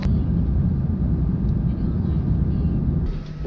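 Inside the cabin of an older passenger plane in flight, a loud, steady low engine roar fills the space, with faint voices underneath.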